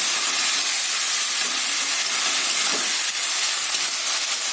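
A paste of ginger, garlic and dried red chili hits hot oil in a pan of mutton curry. It gives a loud, continuous steamy hiss and sizzle that stays even from start to finish, with no talking.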